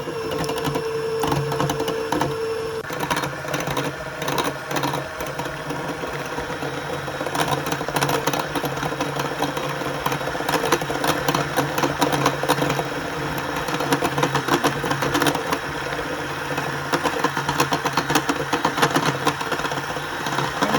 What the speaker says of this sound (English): and then I'm beating it for a while, just like I did with the egg whites.